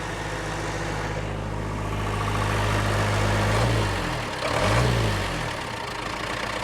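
The rebuilt Cummins diesel in a Case 1840 skid steer runs loud and close, its heavy low rumble steadily rising in pitch as it revs, then dropping and surging again as the throttle is released and pressed.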